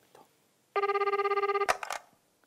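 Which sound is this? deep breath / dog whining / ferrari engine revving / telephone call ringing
telephone call ringing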